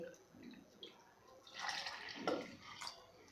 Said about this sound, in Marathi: तर बघा इथे एक कप मी पाणी घालणार आहे